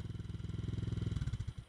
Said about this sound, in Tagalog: Patayin mo na lang yung makina mo. Engine brake ka na lang.